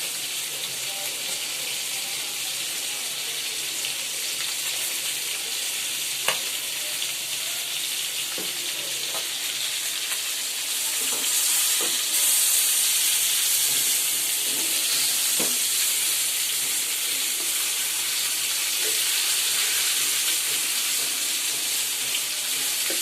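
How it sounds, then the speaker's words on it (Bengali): Koi fish frying crisply in a pan on a home kitchen stove gives a steady, close hiss of sizzling oil, scattered with sharp pops and crackles, slightly louder in the second half. "কই মাছ কড়া বাজি দিতে হয়"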